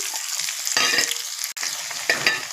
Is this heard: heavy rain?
no